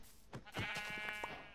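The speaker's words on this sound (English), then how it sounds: "Two sheep." Sheep in the Minecraft video game bleat in a few quiet, wavering calls that overlap one another, with no voices over them.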